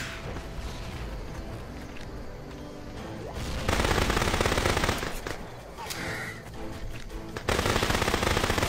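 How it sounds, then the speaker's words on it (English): Rapid automatic gunfire and blasts in a dinosaur survival shooter game, a dense continuous barrage with louder bursts near the middle and end, no talking. "Somebody shooting some missiles at me."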